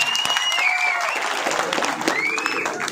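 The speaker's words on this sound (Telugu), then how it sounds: "చప్పట్లు కొట్టాం అందరం" Audience at a village meeting of secretariat convenors and volunteers applauding, dense steady clapping across the whole stretch, with some voices and whistle-like tones rising over the claps.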